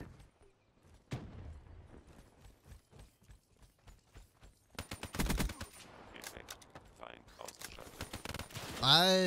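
Gunfire in Call of Duty Black Ops 3 multiplayer: scattered single shots build into dense, rapid automatic bursts and fusillades, with a player talking quietly over the game sounds.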